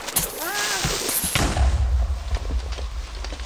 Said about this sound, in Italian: Creeper Explosion.